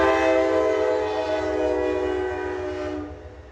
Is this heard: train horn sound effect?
yes